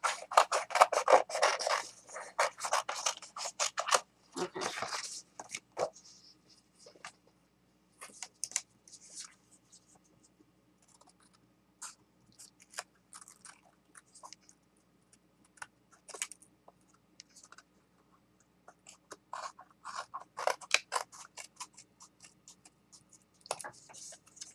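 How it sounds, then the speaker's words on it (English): Scissors rough-cut paper for an altered matchbox craft in crisp, close snips and rustles, clustered at the start and again near the end, with quiet gaps between. "I'm just going to rough cut this first."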